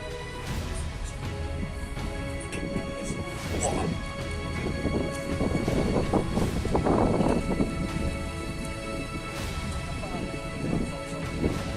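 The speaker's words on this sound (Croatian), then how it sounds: "Pa na kiša napolje." Heavy rain pours steadily outdoors on a street in Pirot, a dense continuous wash with swelling gusts, while people talk faintly beneath it.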